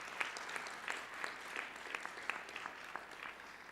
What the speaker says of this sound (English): I think we should all give Emmanuel a big clap